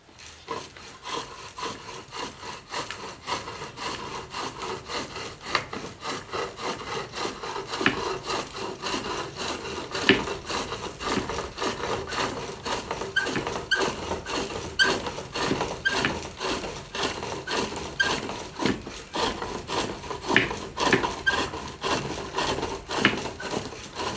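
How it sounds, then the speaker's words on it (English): A chisel cleans up a spinning wood blank on a pole lathe, making a continuous rhythmic scraping and rasping that pulses with each treadle stroke, close and steady for the whole stretch with no talk. "I can come in here with the chisel now and clean things up"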